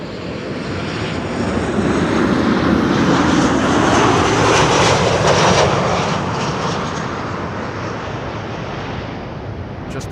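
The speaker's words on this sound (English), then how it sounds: "That's Ita flight 120, arriving from Milan." An ITA narrow-body airliner arriving at Amsterdam Schiphol from Milan rumbles past with a loud, broad engine roar that builds, holds through the pass and gradually fades, with no voices.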